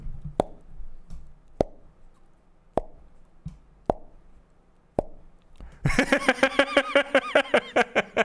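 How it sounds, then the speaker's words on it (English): Sharp, thin revolver pops in a video game (Saints Row, 2022) ring out one at a time at irregular intervals, each fairly quiet and lacking weight, followed by a burst of laughter. "is that the sound of a revolver?"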